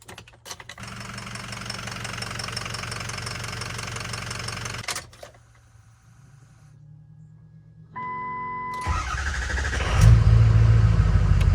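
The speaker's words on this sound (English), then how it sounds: "start the truck up for you, let you hear it run" A 2006 Ford F350 6.0 Powerstroke diesel truck runs with a steady knocking rumble, drops briefly near quiet, then a tonal chime and a louder engine rise follow, all close up with no talk.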